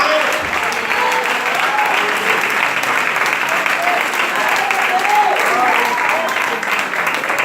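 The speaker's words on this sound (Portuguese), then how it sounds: "Dê uma salva de palmas para Jesus." A church congregation applauds in steady, dense clapping that carries on without a break, a full room of hands at an even, moderately loud level.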